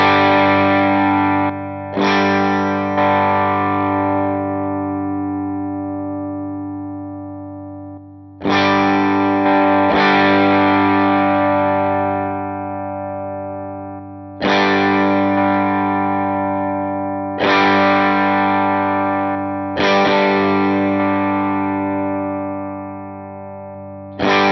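Electric guitar through a light overdrive on a Line 6 HX Stomp dual amp setup plays five or six slowly strummed chords that each ring out and decay, with no talk over them.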